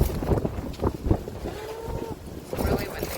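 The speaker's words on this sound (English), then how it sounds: "it's really windy." Wind rushes in buffeting gusts against the microphone outdoors, a loud low rumble that swells and fades, with brief speech sounds mixed in.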